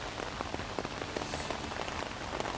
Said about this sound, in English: Bruce, we see it's raining there now